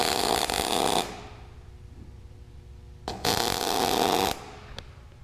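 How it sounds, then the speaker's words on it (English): Steel bars are welded together for a forged candle holder cage, with two harsh crackling welding bursts of about a second each, separated by a quiet pause and followed by a faint click. "I'm gonna weld these two first"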